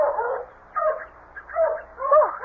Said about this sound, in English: I'll get the dogs quiet.